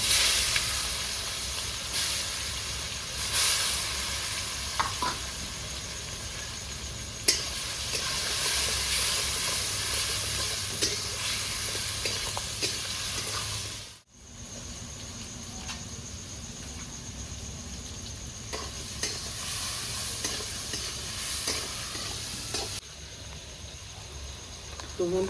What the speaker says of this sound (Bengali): টমেটো 3-4 মিনিট ভালো করে কষিয়ে নিয়েছি